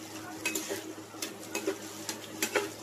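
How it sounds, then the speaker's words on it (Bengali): Potatoes fry in soybean oil while being stirred in a pan, with quiet intermittent scrapes and clinks of the spatula over a soft sizzle, and no voices. "তো খুব সুন্দরভাবে নেড়েচেড়ে ভেজে নিতে হবে, একদম ব্রাউন কালার করে আমি এটা ভেজে নেব।"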